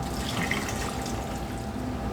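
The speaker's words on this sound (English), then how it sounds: "Alright, we're just going to pour that in there." Water mixture poured into a cooking pot for beef neck bone soup, a steady gurgling rush of liquid lasting about two seconds, close and moderately quiet, with no talk.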